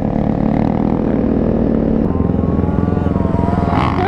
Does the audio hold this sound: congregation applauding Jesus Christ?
no